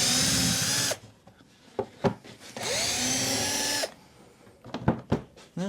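Power drill backing out square-drive number 2 screws on a Polaris quad outdoors: two sustained loud whirring bursts, each about a second or more, separated by clicks and handling noises.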